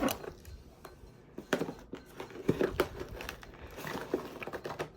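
A tightly taped cardboard box being opened, with close irregular crinkling, tearing and scraping bursts of tape and cardboard in uneven clusters.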